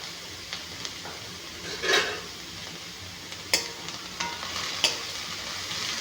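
Chili and garlic with a pinch of turmeric fry in a pan, giving a steady close sizzle broken by a few sharp spatula stirs and scrapes.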